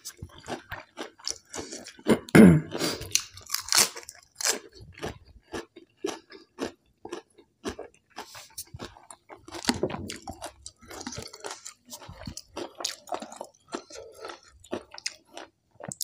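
Close, wet chewing and crunching of grilled Isan fermented pork sausage with sweet plum dipping sauce, repeated bites and mastication in an irregular rhythm, loud and intimate with no talk.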